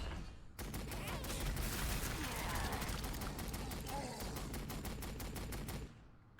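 A rapid-fire gun in the video game Warhammer 40,000: Sanctus Reach, likely mounted on a tank, unleashes a loud sustained burst of rattling shots lasting about five seconds before cutting off.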